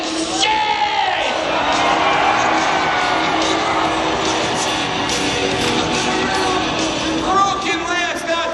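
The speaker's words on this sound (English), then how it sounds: "And the crowd goes insane!" A crowd roaring and cheering at a jousting event at the PNE, loud and sustained with shouts and whoops rising through the clip, an announcer's voice heard over it.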